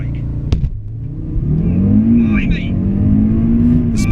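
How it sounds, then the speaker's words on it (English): 2017 Audi TT RS launching hard from a standstill, its engine rising in a loud, steady strain as it pulls through the gears close by, with a short click at the start. "Right foot on the throttle, release the brake."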